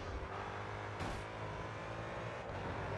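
In Grid 2, a racing car's engine drones and whirs steadily throughout, with a brief brighter surge in the middle, loud and continuous with no talking over it.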